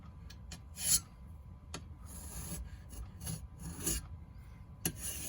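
Sandpaper worked over a rifle's wooden fore end to distress it, heard as quiet, close, repeated rasping strokes with occasional brief louder scrapes, no talking.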